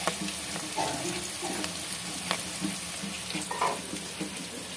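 Onion, ginger, garlic and green chillies sautéing in a pan for Bihari-style chicken curry, a soft continuous frying hiss with a few light scrapes of the spoon, fairly quiet and free of talk.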